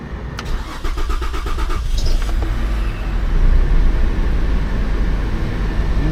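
A 2008 Saturn Vue, sitting in neutral with a faulty shifter, cranks briefly with a rapid starter whir, then catches and settles into a steady, rumbling idle close by, with no talk.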